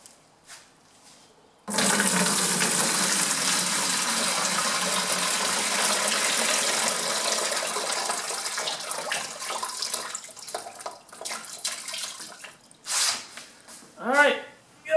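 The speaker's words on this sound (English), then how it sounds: "Pull the caps off and drain the acid out." Liquid acid pours out of an opened car battery in a steady splashing stream that starts abruptly, runs for several seconds, then trails off into sloshing gurgles and a few drips.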